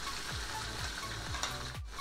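Beaten eggs fry in hot oil in a pan, with a continuous close hiss and a faint rhythmic low whir repeating beneath the sizzle.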